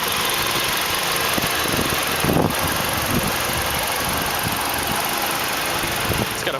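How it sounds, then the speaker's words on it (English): A 2010 Hyundai Elantra Touring SE idles on its 2.0-liter 16-valve DOHC inline-four with variable valve timing, a steady, even drone heard up close with a faint brief knock partway through and no talking. "It's got a 138 horsepower, 2-liter, 16-valve dual overhead cam inline 4-cylinder with continuous variable valve timing."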